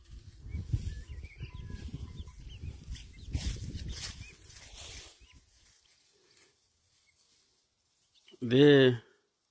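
A short burst of harsh, rattling calls from guinea fowl parents in Zimbabwe rings out at the end, after a stretch of quiet murmuring voices.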